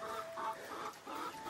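A hen clucking close by near her eggs at a home in Nepal, a series of short, rhythmic clucks repeating steadily without any talk.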